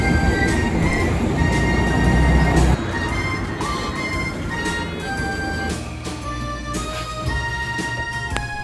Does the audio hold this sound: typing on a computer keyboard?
no